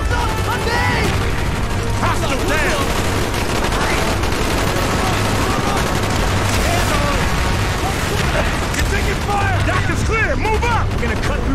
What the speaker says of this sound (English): Drop a grenade in the hole!